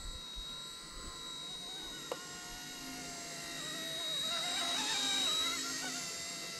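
A small ERA-RC C189 MD500 ready-to-fly RC helicopter flies and comes in to land nearby, its steady high-pitched motor and rotor whine rising and swelling in the final seconds, with no talk over it.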